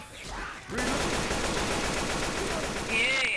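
An AK rifle in an online video game fires in a loud, rapid continuous burst, with a voice speaking briefly over the gunfire.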